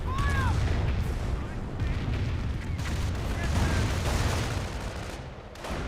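A rocket artillery barrage in the World War II strategy game Company of Heroes: dense, continuous rumbling explosions and booms, loud and sustained, with a brief whistling streak near the start.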